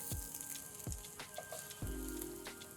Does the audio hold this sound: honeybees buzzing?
no